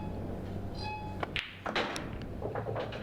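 Snooker balls knocking together in a cannon during a professional pro series final, a couple of sharp clicks and thuds against a steady hall background, with no talk.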